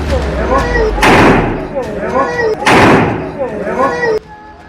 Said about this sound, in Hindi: बदमाश फायरिंग किए जा रहा है